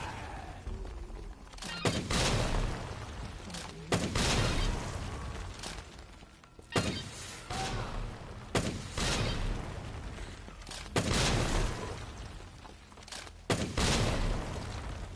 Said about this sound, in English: It just feels a little bit too slow, this rocket launcher.